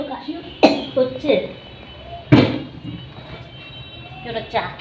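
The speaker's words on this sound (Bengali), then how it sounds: "এত কাশি হচ্ছে" A woman coughs twice in sharp close bursts, with a few smaller throat sounds and faint household noise between them.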